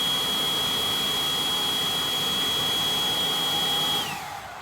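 A Milwaukee M12 spot blower runs at full speed, a loud steady high-pitched whine and rush of air that winds down near the end.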